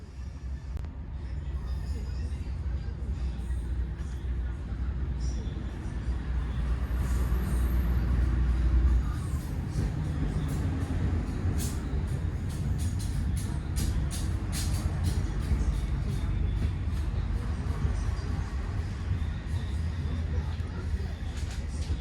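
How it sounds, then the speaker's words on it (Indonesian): Local economy train KA from Sidoarjo to Bojonegoro running, with a steady low rumble and rolling wheel noise filling the carriage, swelling louder midway, with faint clicks and distant voices inside the car. "selamat datang di kereta api ekonomi lokal KFD yang akan mengantar kita dengan tujuan stasiun Bojonegoro"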